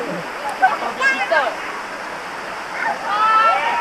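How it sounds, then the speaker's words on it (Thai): A steady rushing roar of falling water at Lan Rak waterfall in Nakhon Nayok, Thailand, fills the scene, with faint voices and a few brief chirps drifting over it. "เป็นน้ำตกลานลักนะครับ นครนายก"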